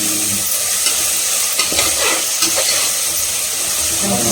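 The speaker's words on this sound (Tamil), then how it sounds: "இந்த வெங்காயம் வந்து பார்த்தீங்கன்னா நல்லா வதங்கணும்" Onions sauté in a hot pan in a dense, loud, continuous sizzle, with soft shuffling and scraping as they are stirred around.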